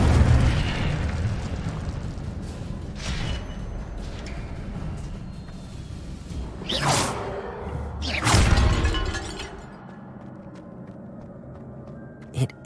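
Spell-casting effects in the Hogwarts Legacy game: whooshing bursts and booming, explosion-like blasts over a rumbling background, with two especially strong bursts near the middle before the sound fades to quieter ambience.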